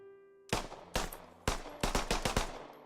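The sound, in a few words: M17 pistol firing in Squad video game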